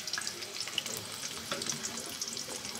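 Onions frying in hot oil in a wok, being browned, with a steady sizzling crackle and scattered small pops, close and moderately loud throughout.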